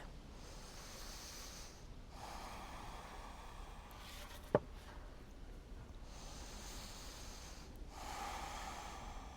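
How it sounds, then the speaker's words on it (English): Three big, full breaths during a seated yoga stretch, each a slow, airy, quiet breath with long pauses between them and a brief faint click partway through. "Take 3 big full breaths here."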